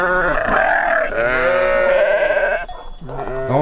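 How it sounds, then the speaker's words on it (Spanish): Sheep bleating loudly and close by, an old ewe and a lamb among a small flock on a farm, with continuous overlapping harmonic bleats that break off briefly near the end before resuming. "Son un cordero y dos ovejas viejas."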